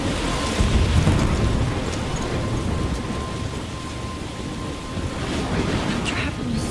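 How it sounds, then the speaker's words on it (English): A thunderstorm in the video game Life is Strange: steady, dense rain and low rumbling that fill the whole stretch, swelling slightly near the start and staying loud throughout. "I'm trapped in a storm?"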